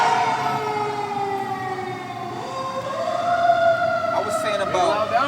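An emergency vehicle siren wails outside, rising and falling steadily and swelling louder toward the end, with background noise underneath and no clear talk over it.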